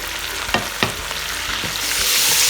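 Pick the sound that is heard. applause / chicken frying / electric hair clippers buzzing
chicken frying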